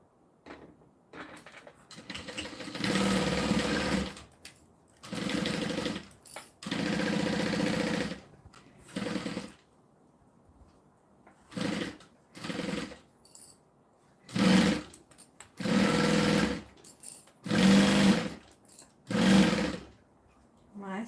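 A sewing machine stitches fabric pieces in repeated bursts of several seconds each, separated by short pauses, running close and fairly loud with a steady mechanical whir.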